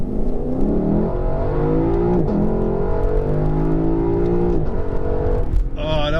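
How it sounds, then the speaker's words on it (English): A 2018 Lexus LC 500 in Sport Plus mode pulls away hard from a launch, its engine rising loud and close through several rising pitch sweeps with clear upshifts, then dropping off at the end. "I put it in Sport Plus and just do a little takeoff here."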